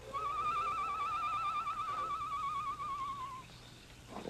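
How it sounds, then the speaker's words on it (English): A low, warbling night-bird call in a radio drama sounds outside a barred jail-cell window: one sustained, quavering whistle-like note holds for about three seconds, then fades, over faint background hiss. "he heard the low call of a night bird outside the barred window"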